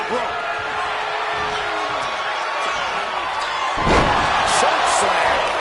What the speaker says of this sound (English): Choke slam.